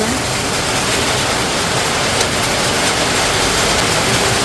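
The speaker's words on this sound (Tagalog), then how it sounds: "Malakas po ang ulan." Heavy rain pours down in a dense, constant roar of broadband hiss with no breaks, loud and close throughout, with no voices over it.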